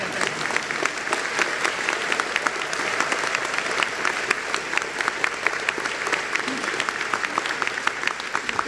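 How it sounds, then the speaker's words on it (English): Steady applause from a large audience at a university graduate commencement ceremony, dense even clapping that continues at a constant level for the whole stretch with no pauses. "That's worthy of applause."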